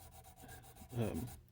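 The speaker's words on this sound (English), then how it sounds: "I'm just using a piece of yellow back 3M 400 grit sandpaper." A G10 knife handle scale rubbed by hand on 400-grit yellow-backed 3M sandpaper, making soft, close scraping strokes in a short burst that rises to a stronger rasp near the end.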